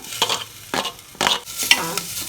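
Onions and curry leaves frying in a light film of oil for a country chicken soup, crackling up in four short bursts as they are stirred, close and fairly loud, with no talking.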